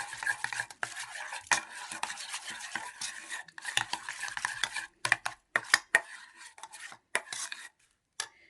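A spoon briskly stirs egg yolk into a homemade organic hair dye mixture in a bowl, making rapid wet scraping and clicking strokes with short pauses between bursts.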